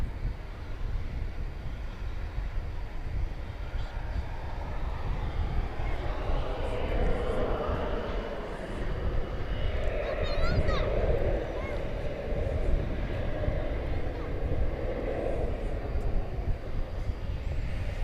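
Airliner taking off at night at DFW Airport, a steady, distant roaring jet engine drone with some wind noise and faint radio chatter in the background.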